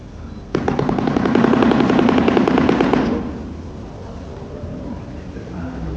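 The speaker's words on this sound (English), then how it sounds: "When shoebills communicate, their beaks produce a loud clattering noise that sounds almost like machine gun fire" A shoebill stork clatters its beak in a loud, rapid, machine-gun-like rattle lasting about two and a half seconds, then it stops abruptly and leaves a quiet background.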